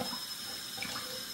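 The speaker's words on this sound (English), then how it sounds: "Filling up a glass." Tap water runs into a glass in a kitchen, a close, steady hiss and splash that lasts the whole brief moment with no talking.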